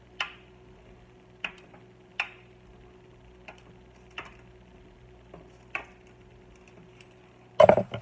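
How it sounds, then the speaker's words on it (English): Homemade saltine cracker dough being cut into squares: sharp, evenly spaced taps of the blade meeting the board, about eight cuts in a slow rhythm, ending in a louder clattering knock. "So we'll go ahead and slice these here."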